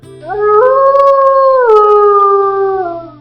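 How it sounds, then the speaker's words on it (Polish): A wolf's howl, a single long, loud tonal cry that rises, holds steady and slowly falls, heard up close and alone. "Żyją do 30 lat i nie szczekają, ale wyją."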